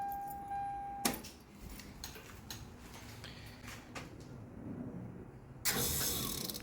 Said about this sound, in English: We hear the fuel pump.